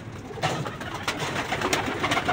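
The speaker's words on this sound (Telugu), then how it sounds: "ఇవి వచ్చేసి పావురాలు," A flock of about forty to fifty pigeons coos steadily, the soft rolling calls overlapping against a noisy outdoor background with no one speaking.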